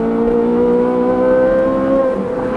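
A Chevrolet Corvette C8 Z06 engine held at high revs, loud and close, with a steady sustained tone that rises slightly in pitch before easing off.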